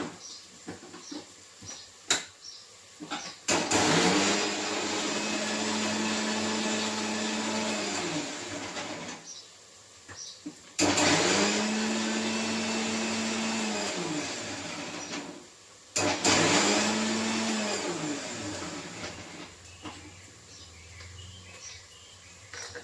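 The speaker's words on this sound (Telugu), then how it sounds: "ఒక రెండు పాయల ఎల్లుల్లిపాయలు తీసుకొని మిక్సీ పట్టుకోవాలి" A mixer grinder whirs loudly while grinding a small piece of ginger and a couple of garlic bulbs into paste, running in three long bursts separated by brief pauses, with no one talking.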